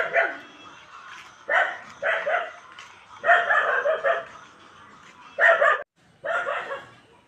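A small puppy gives a series of about seven sharp, high yipping barks in short separate bursts, close and fairly loud, with quiet pauses between them.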